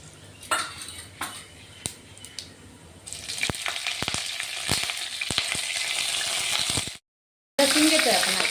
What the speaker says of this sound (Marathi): जिरे मोहरी चांगली तडतडली की आपण कढीपत्ता टाकतोय.